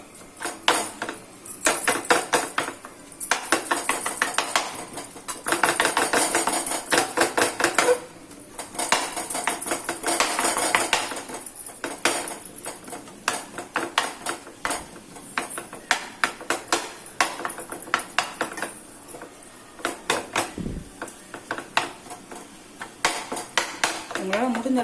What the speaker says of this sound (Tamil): அது வச்சு நல்லா வந்து இப்படி கொத்தி விட்டீங்க அப்படின்னா பரோட்டா வந்து ரொம்ப நல்லா இருக்கும்.